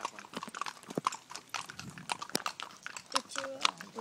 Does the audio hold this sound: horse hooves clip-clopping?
yes